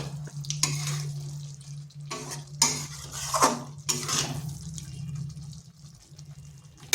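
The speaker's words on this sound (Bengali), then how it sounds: "ভালোভাবে সমস্ত মশলার সঙ্গে এইভাবে মিশিয়ে নিতে হবে" Small potatoes being stirred with spices for aloo dum in a metal pan, with repeated scraping and clinking of a utensil against the pan in uneven strokes, close and fairly loud over a low steady hum.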